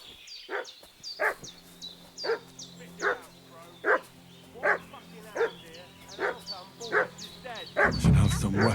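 A dog in the medieval video game Kingdom Come: Deliverance 2 barks repeatedly at a steady rhythm, somewhat distant, over a low ambient game backdrop, with a louder burst of sound at the end.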